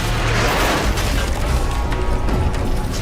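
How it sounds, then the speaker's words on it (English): A loud, dense boom rumbles continuously, like a large in-game explosion in Call of Duty: Black Ops Cold War, with crumbling debris filling the whole stretch. "Massive explosions have brought new gameplay with them"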